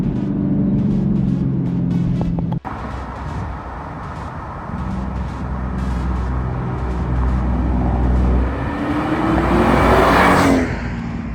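A supercharged V8 in a Camaro ZL1 muscle car, loud and close, with a sharp blip, then a steady rumble that builds into a rising rev before easing off.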